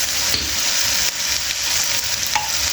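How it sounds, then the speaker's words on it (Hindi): Macaroni being stirred after vinegar and soy sauce are added, a loud, continuous close-up sizzle with scraping stir strokes and no voices. "तो इसको हम अच्छे से मिक्स कर देंगे।"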